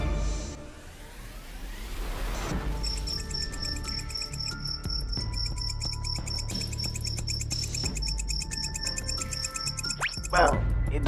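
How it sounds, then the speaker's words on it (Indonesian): Crickets chirp steadily through a village night, a dense layer of high, pulsing trills with other insect calls woven in, close and continuous with a low background hum underneath. "itu kan suara jangkrik"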